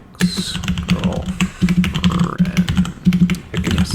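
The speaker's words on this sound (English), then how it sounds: "I can hear your keyboard really loudly over there." Loud computer keyboard typing, rapid clacking keystrokes in quick bursts with short pauses, close to the microphone.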